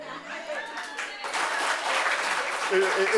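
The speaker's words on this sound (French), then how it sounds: "comme vous applaudissez" A studio audience applauds during a French talk show, the clapping swelling to a dense, moderately loud patter under voices that keep talking.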